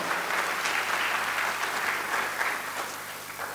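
Audience applause at a graduation ceremony for IPP graduates, a steady wash of many hands clapping throughout that eases slightly toward the end, with no voices over it.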